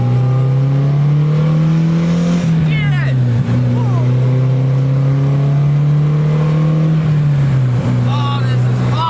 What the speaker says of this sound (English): first ride along in the S13